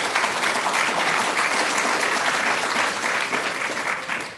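Audience at a wrongful-convictions event giving a round of applause, loud, dense clapping that holds steady for the whole stretch before easing slightly at the end.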